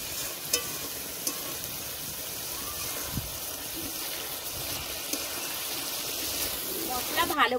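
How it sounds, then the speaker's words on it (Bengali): Turmeric and coriander powder spice mix sautés in oil with rita fish in a pan, a steady sizzling hiss with a few stirring knocks near the end. "এবার ভালো করে কষে নেব"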